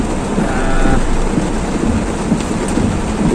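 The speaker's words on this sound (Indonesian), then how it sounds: "dalam kondisi hujan cukup deras" Heavy rain pours during a storm on a Makassar street, with a deep continuous roar of rainfall and low rumbling thunder, loud and steady throughout, no voices.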